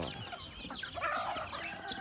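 Native Thai chickens cluck in a busy overlapping chorus at feeding time, a steady close flock sound with no talk.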